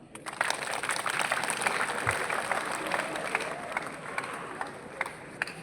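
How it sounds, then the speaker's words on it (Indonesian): A crowd applauds at a school flag ceremony at SMK Negeri 1 Depok on a Monday morning, a sustained outdoor clatter of many hands with scattered sharper claps and faint voices in the mix. "Tepuk tangan untuk kita semua"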